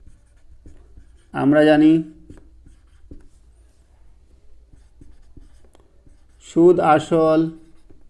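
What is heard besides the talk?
writing by hand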